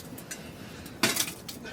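A small metal frying pan clanks briefly against something nearby inside a hot tent at a winter camp, a sharp clatter standing out over a quiet space, with a few fainter knocks around it.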